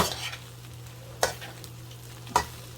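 Scallions sizzling in a pan of fried rice as it is stir-fried: a steady low frying hiss broken by two sharp scraping strokes of a utensil about a second apart.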